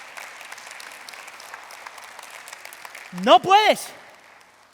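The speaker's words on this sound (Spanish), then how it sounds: "Si va a aplaudir, dele gloria al Señor." A church congregation claps during a Spanish-language sermon, steady scattered applause filling the room while a preacher's voice rises over it near the end.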